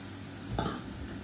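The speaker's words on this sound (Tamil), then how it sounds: "இப்போ இதையும் சேர்த்து நல்லா எண்ணெயில் வதக்கி விட்டுக்கலாம்" Ingredients sautéing in hot oil for a Tamil egg masala gravy, a steady close sizzle with a brief louder stir and scrape in the middle.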